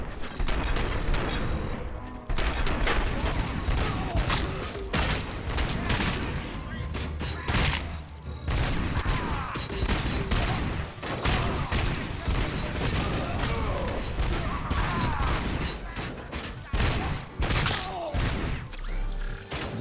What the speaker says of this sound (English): It's a Robocop gun. It takes forever to fucking shoot the guy.